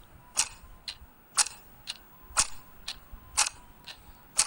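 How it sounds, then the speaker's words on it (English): Clock ticking close and clear, a steady series of sharp alternating ticks, about two per second, over a quiet background. "It is the ticking of the clock"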